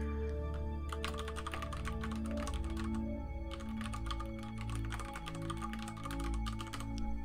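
Rapid clattering keystrokes on a computer keyboard during a Kerbal Space Program livestream, steady and close over a constant low electronic hum, with a short pause partway through.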